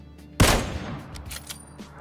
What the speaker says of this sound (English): let's get started with the most commonly used and found sniper rifle in the game, the Kar 98